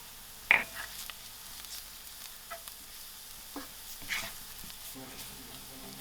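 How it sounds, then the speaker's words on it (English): Crushed garlic fries with cumin seeds in a pan, a faint, steady sizzle with a few soft clicks and stirring scrapes, fairly quiet throughout. "My garlic is fried out"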